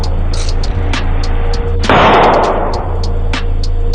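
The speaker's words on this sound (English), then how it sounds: "Another camera captures the sound of the gunshots." Gunshots from a handgun with an extended magazine, fired at police during a broad-daylight street shooting, crack out in a rapid, uneven string of sharp reports over a steady low rumble, with a louder burst partway through.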